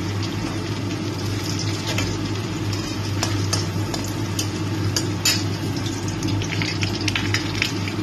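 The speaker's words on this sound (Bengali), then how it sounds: "রসুনটা একটু লাল লাল করে একটু ভাজা হবে।" Chopped garlic frying in hot oil, a dense steady sizzle and hiss with a low hum underneath and scattered light clicks of stirring.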